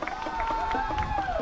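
A crowd at a high school football game between the Howe Bulldogs and Callisburg Wildcats, a steady roar of cheering and noise picked up by a crowd mic, with a commentator talking over it.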